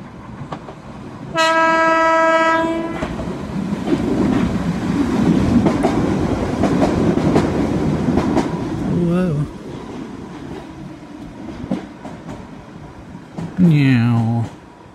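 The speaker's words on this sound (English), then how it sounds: "it happens to be the time the train goes past" A train passes close by on a wet day, opening with a loud horn blast, followed by a sustained rumble and clatter of wagons, then a second horn at the end, with a voice speaking briefly.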